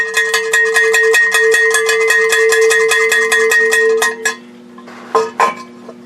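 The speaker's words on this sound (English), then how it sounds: "Jolson says we need cowbell" A cowbell struck in a fast, steady rhythm, loud and close with bright ringing clanks, then stopping and followed by a few scattered louder hits.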